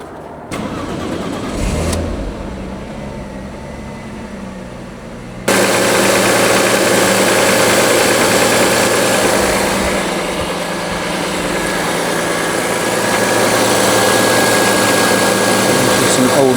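An Audi A4 Cabriolet 2.4 V6 with new spark plugs cranks briefly, catches and fires up, then settles into a steady, loud idle that runs on without a break.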